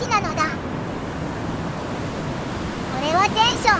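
A mountain river on a remote Kagoshima island rushes steadily near a suspension bridge along a forest trail, a continuous close wash of water with brief high chirping near the start and end.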